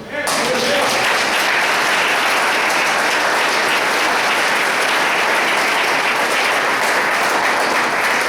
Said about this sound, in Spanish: ¿No le das un aplauso al Señor?